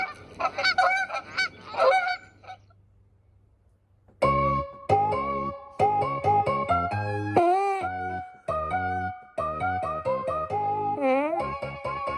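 A goose honking sound effect plays on a sports talk show: a few quick honks, a brief pause, then a long run of loud, nasal, tonal honks in irregular bursts.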